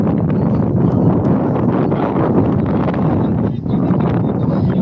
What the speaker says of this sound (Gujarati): એસી જેવી હવા આવે ભાઈ એસી જેવી